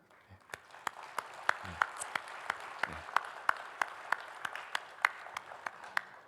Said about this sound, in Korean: 우리 박수로 격려하고 위로하도록 하겠습니다